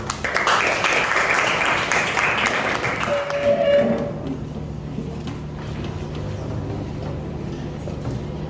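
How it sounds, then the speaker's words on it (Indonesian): Classroom of students applauding for a presenting group, a dense, noisy burst of clapping for about four seconds that then fades into quieter room murmur and shuffling. "Oke, jadi nanti tepuk tangan buat kelompok A."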